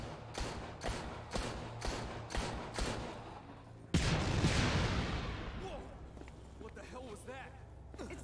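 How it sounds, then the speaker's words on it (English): In the Dead Rising 3 video game, a sudden heavy explosion booms after a run of rhythmic thuds, then rumbles and slowly fades; voices talk faintly around it. "It sounded like an explosion."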